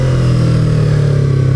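A 2015 Yamaha R3 motorcycle engine drones loud and close at steady high revs, a smooth continuous buzzing hum with no voices.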